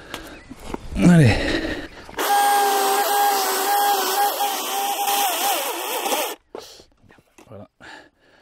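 A DeWALT FLEXVOLT cordless chainsaw cuts through part of a wooden sawhorse in one loud, sustained buzz of about four seconds that ends abruptly, preceded by a short noise and followed by quiet handling sounds.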